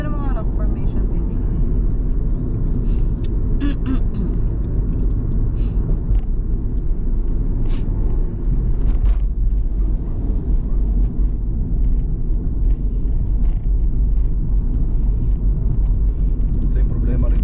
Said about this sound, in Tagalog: Ito yung problema rito, maraming truck eh.